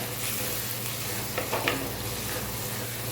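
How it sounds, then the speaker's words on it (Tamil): Chopped tomatoes sauté with onions in a pan for a mango fish curry, giving a steady, close sizzle throughout with a couple of brief stirring scrapes midway and no talking. "ரெண்டு தக்காளி கட் பண்ணி வச்சுருக்கேன் அதையுமே உள்ளார சேர்த்து நல்லாவே வதக்கி விட்டுக்கலாம்"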